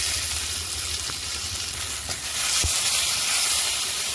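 Neem leaves, chopped onion, garlic and shrimp frying in hot oil for a Bengali curry, a steady close crackling sizzle with occasional stirring scrapes, growing louder partway through.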